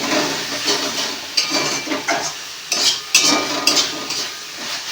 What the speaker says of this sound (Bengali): এবার মশলাটাকে ভালো করে কষাতে হবে।